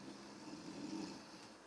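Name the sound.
snoring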